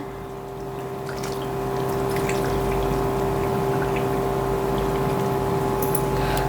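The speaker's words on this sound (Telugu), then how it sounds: "నేను ఇప్పుడు నూనె నూనె పోసుకోవాలి" Oil is poured into a half-kilo batch of homemade mango pickle, a steady continuous liquid pour that swells after the first couple of seconds and holds close and even, with a constant hum underneath.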